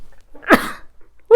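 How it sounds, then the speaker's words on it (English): A single sharp human sneeze, close and loud, bursting out briefly in a quiet room, followed by a short pause and the start of a voice. "I'm about to sneeze, it feels like."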